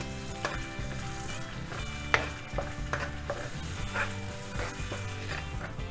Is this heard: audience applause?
no